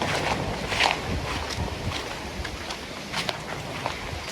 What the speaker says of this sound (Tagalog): Pagkakalakas ang agos.